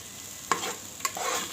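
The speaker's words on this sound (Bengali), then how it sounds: "আমি মাত্রই নাড়া দিলাম" Bitter gourd fry cooking inside a rice cooker, a soft bubbling sizzle broken by two quick metallic clanks as it is stirred, close but fairly quiet, no voices.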